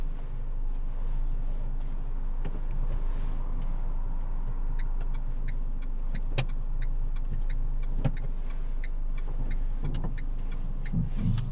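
A learner's car pulls away at the start of a driving test, with a low steady engine rumble, faint road noise and a few small clicks inside the cabin.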